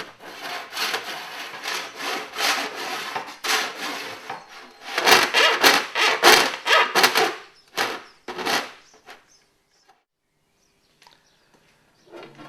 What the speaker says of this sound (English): We use a file.